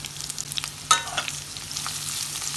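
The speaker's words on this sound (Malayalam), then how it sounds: "ഇനി ഇതിനകത്തേക്ക് നമുക്ക് അരിഞ്ഞ് വെച്ചിരുന്ന ഉള്ളി മുഴുവനും ഇട്ട് കൊടുക്കാം" Chopped onions tipped into hot oil with frying ginger and garlic, a sharp sizzle burst followed by steady crackling and stirring scrapes in a pan, close and alone without voices.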